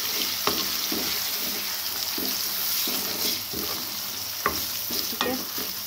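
Tomatoes sizzling in a pan for shaljam palak chicken: a steady frying hiss broken by several sharp scrapes of a spatula being stirred, close and clear.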